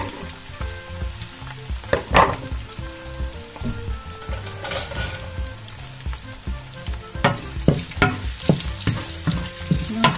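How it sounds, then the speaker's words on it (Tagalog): Crab balls frying in hot olive oil in a pan, a loud steady sizzle and crackle with bursts of popping and occasional stirring clatter, close by and without talk. "Unahin muna natin iprito yung ating balls, crab balls."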